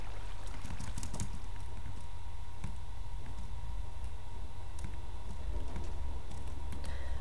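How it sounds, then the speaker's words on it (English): Steady rain falls across a blocky Minecraft-style survival world near a ravine, a continuous soft hiss with faint scattered taps and small clicks, no voices over it. "Hate rain."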